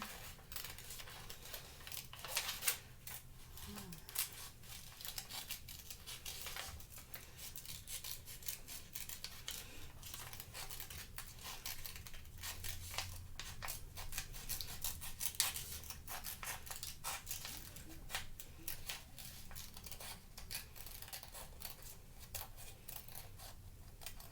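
Scissors snip through paper as the wispy hair for a St. Nick craft is cut out, a steady run of close, crisp snips and rustling paper lasting the whole stretch, with no talking.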